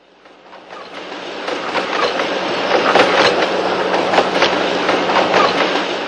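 Train carriage rolling along rails with a steady rhythmic clickety-clack of the wheels over the joints, a continuous close rumble that swells slightly louder and stays constant, with no voices.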